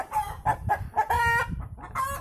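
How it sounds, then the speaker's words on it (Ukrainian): A rooster clucks in a steady series of short, repeated calls, close and fairly loud, with no talking. "Він тут квокче."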